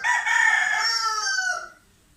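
A rooster crows loudly and close by, one long drawn-out cock-a-doodle-doo that fades out near the end.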